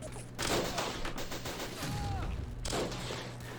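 Gunfire crackles in a desert World War One cavalry battle in Men of War, a dense rolling fusillade of overlapping rifle shots with heavy bursts coming and going, loud and steady throughout.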